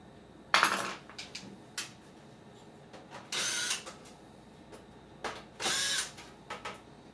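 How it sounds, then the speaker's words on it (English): A power drill backs screws out of a device on a repair bench, several short whirring bursts of different lengths separated by quiet pauses and faint handling clicks, heard close up. "I got a drill. I could probably just take them all out with a drill"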